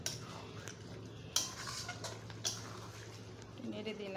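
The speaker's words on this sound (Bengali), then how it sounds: "নেড়ে দিলাম, আবার ঢেকে দিচ্ছি।" Chicken curry with potatoes is stirred in a pot and then covered, giving a couple of sharp metallic clanks of a spoon and lid over a low background hum, with quiet scraping between them.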